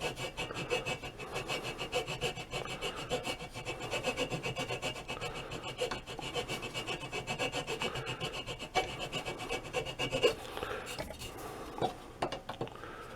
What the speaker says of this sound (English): I'm using a file that has a really nice sharp corner on it, and I'm going in about a 1/16 of an inch from this edge.